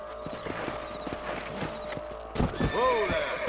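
Horse in the video game Red Dead Redemption whinnies loudly near the end, its neigh rising and falling, while hooves clip-clop steadily underneath throughout amid in-game ambience.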